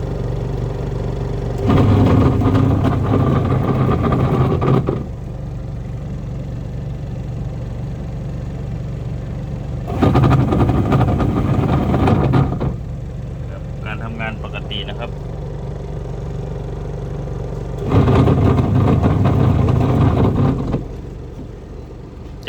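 A Samsung washing machine, checked during repair, cycles its spin motor in three loud bursts of several seconds each. Quieter hum sits between the bursts, with brief faint clicks in between.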